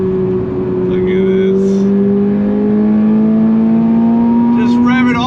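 A 2024 Toyota GR86 Performance Pack engine revving hard toward 7,500 RPM, a loud rising tone climbing steadily across several seconds, with a voice briefly heard over it.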